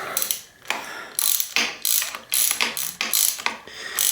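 A part being screwed into the bottom of an Answer Manitou 1 bicycle fork during a rebuild, heard as close, repeated ratcheting clicks in short bursts with brief pauses between turns.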